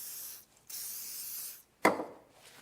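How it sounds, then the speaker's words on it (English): WD-40 sprayed onto a metal tool to keep off rust, heard as two hissing aerosol bursts, the first about half a second and the second over a second long, followed by a short scraping rub. "You just spray it on"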